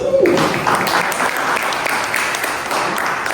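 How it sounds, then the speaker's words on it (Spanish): Strong clapping from a church congregation during a Spanish-language sermon service on salvation, a loud, sustained burst of applause from many people, with a brief voice at the start. "¿Qué tal si le damos fuertes palmas?"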